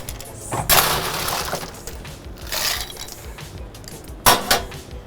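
Ice cubes scooped and dropped into cocktail glasses behind a bar, bursts of clattering, rattling cubes with two main loud pours and smaller clinks between, close and bright.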